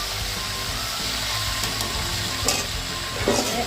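Water spinach with turmeric and salt stir-frying in a pan, a loud continuous sizzle with occasional scrapes and clinks from stirring, and no talking.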